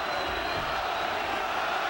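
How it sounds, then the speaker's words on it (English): A boxing crowd roars at a peak inside the King's Hall arena in Belfast, a dense continuous wash of cheering that sounds distant and fairly quiet, with no talk on top. "the crowd in the King's Hall have gone up to peak"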